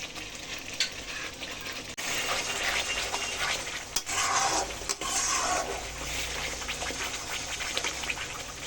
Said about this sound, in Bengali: টক দইটা আমি সমস্ত মশলার সাথে এবার ভালোভাবে মিশিয়ে বেশ কিছু সময় ধরে কষিয়ে নেব